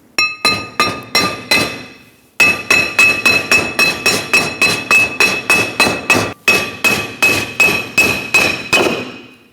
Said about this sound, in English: take a hammer, tap it down